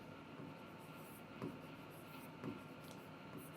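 Faint, steady scratching strokes of writing on a classroom board, with a couple of slightly firmer taps as a teacher writes out conditions during a science lesson on plant tissue.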